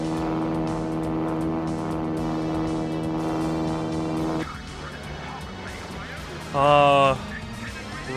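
Droning biplane engine from the Sonic Adventure video game, a steady buzzing motor tone that holds for about four seconds and then cuts off, followed by quieter game sounds and a brief rising whoosh.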